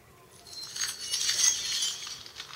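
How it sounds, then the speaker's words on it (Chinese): A soft ice-cube clinking notification chime from an HTC HD2 phone, a few light glassy clinks rising and fading over about two seconds, quiet and close with no talk. "我这个是冰块声音，"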